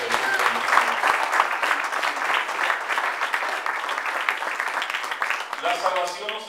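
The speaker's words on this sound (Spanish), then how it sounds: "Dale un aplauso a Cristo Jesús." Congregation applause during a church sermon, a sustained burst of many hands clapping that carries on evenly before a voice begins speaking near the end.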